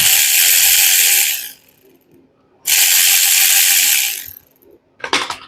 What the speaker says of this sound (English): all you got to do is unbolt these battery terminals